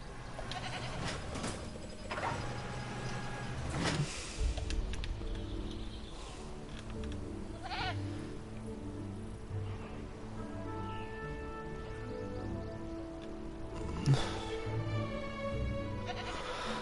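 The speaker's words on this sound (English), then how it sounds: "So right here is a goat" Goat bleating in the dinosaur park game Jurassic World Evolution, several repeated nasal bleats against a steady in-game ambient bed with faint bird-like chirps.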